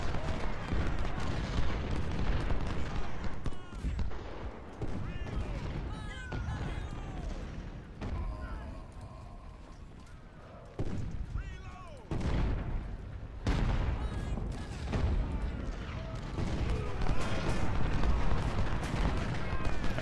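Musket volleys and artillery fire rumble continuously in Ultimate General: Civil War, a dense rolling barrage of booms and crackling shots with occasional brief lulls, with a voice talking over it at times.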